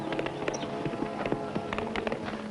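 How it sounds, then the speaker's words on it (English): Hooves clip-clopping in a quick, uneven rhythm, fairly close, with some faint background noise. "Look, there's a riderless horse."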